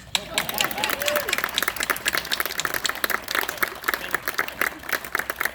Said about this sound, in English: this is a good time for applause.